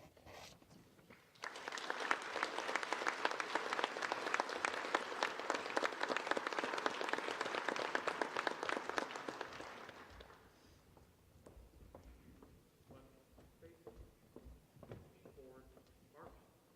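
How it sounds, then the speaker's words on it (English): Applause for newly commissioned Army second lieutenants at a battalion commissioning ceremony: a crowd bursts into loud sustained clapping for about eight seconds, then fades out, followed by quieter scattered sounds and distant voices. "Please give these second lieutenants a round of applause."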